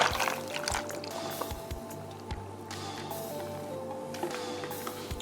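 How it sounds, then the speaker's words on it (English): Juice poured into a blender jar, a soft steady liquid stream with light splashes and a few dull knocks against the container. "take the juice, go ahead and just pour that on in there."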